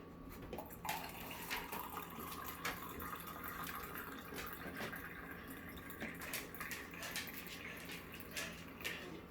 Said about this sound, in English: I pour the steep tea on top of it